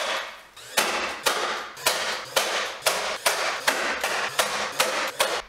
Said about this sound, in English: attach the face frame with brad nails